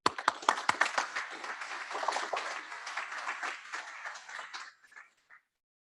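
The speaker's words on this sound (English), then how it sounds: "Please welcome and give a round of applause for the ambassador." Audience applause for an ambassador at a high-level ocean panel: a dense burst of clapping starts at once with a few sharp early claps, holds steady, then thins out and stops within about five seconds.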